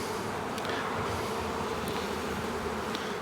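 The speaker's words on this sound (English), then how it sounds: "there's a lot of bees in that thing" A dense, continuous swarm drone fills a beehive super, with many bees buzzing close by at a steady level and no voices.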